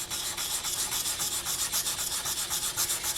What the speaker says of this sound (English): 360 grit sandpaper. And it's quite a coarse grit, and so it's going to remove all sorts of imperfections.